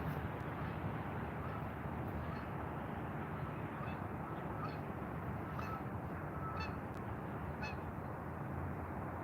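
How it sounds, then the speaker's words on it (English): Geese honk repeatedly at a distance, several faint calls spaced about a second apart, under steady loud wind and water noise at a trout and carp fishing spot. "Come some more geese in. I thought the geese were going to fly off by now."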